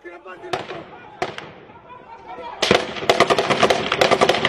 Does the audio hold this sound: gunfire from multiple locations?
yes